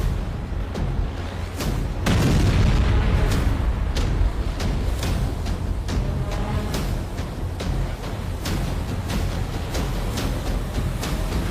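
Airstrike explosions in Gaza, dense rumbling booms and repeated sharp blasts over a continuous loud roar, with no pauses throughout.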